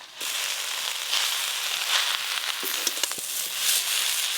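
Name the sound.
susni greens frying with potato and onion, being stirred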